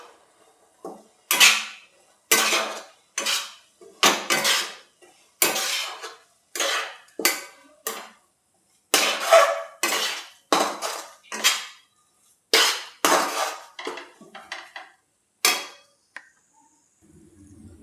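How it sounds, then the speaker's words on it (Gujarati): Roasted grated coconut being stirred in ghee in a metal pan for coconut sweet, repeated scraping and clanking of a spoon against the pan in irregular bursts, with no talk. "હવે આપણે આમાં ટોપરું આપણે ઘીમાં શેક્યું હતું એ નાખી દઈશું. અને ધીમા ગેસે આપણે હલાવશું."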